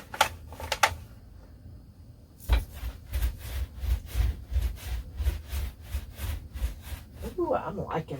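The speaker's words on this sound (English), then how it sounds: "I'm going to work it into the carpet fibers with my bristle brush" A bristle brush scrubs paint into carpet fibers in an RV camper bedroom, giving a quiet, rhythmic scratching of short repeated strokes, with a brief soft voice near the end.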